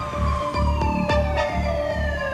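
An ambulance siren wails in steady, slowly falling tones, loud and close, with a few sharp knocks and rumbles breaking through beneath it.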